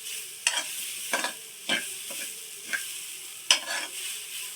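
Grated coconut stirred into frying cassava (maravalli kilangu) in a pan, several distinct scraping stirs over a soft continuous sizzle, close and alone.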